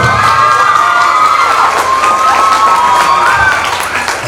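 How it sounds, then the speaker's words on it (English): School showcase audience at Bright Concept School applauding and cheering for Mr. Prabhu, loud sustained clapping with children shouting and whooping throughout, easing slightly near the end. "a big round of applause and super claps to Mr. Prabhu sir"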